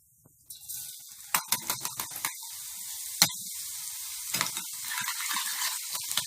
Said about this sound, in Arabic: دلوقتي تقريبا الزيت سخن عندي اهو. هنزل بقى دلوقتي بالتومه.